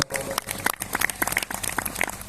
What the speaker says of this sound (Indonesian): Tepuk tangan untuk kehadiran beliau.